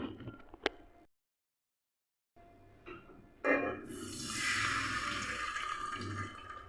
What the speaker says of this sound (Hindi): अब साथ ही मैं इसमें पानी शामिल करूँगी ताकि इसका जो शीरा बनाना है